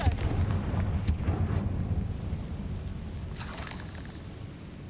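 A Confringo fire spell blasting in Hogwarts Legacy, heavy booming explosions with rumbling low impacts and crackling debris, loud and close at first, then thinning out into softer scattered bursts.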